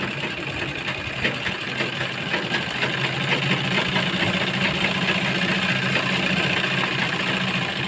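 A sewing machine runs in a continuous, steady mechanical whir while stitching the boat neckline of a kurti, close and unbroken, with no talking.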